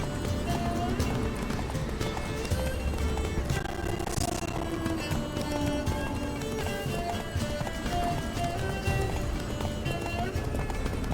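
Geralt's horse Roach gallops in The Witcher 3: Blood and Wine, with steady rhythmic hoofbeats and an occasional whinny set against game music and ambience, running continuously at moderate volume.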